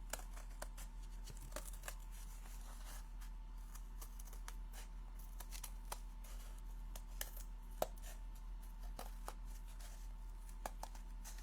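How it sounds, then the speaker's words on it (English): Old, worn scissors cutting material for a bucket floral craft, a long run of crisp irregular snips, close and quiet, with a low steady hum underneath. "These are cutting pretty good for not being the greatest pair of scissors."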